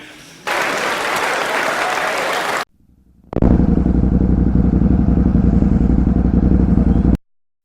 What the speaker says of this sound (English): test riding the Ducati Supersport